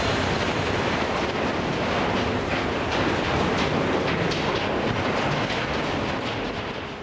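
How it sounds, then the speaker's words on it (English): A long, heavy iron ore freight train in Australia rumbles past with a dense, continuous roar and rattle, heavy and close, mixed with wind noise, fading slightly at the end. "it's going to be the front of a huge train"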